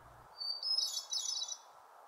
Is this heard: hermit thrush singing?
yes